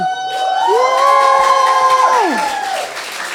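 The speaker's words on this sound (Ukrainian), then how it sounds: "Аня, оплески їм." Applause from a live stand-up improv comedy audience rises and holds for about three seconds, with a loud sliding, whistle-like tone cutting across the crowd noise.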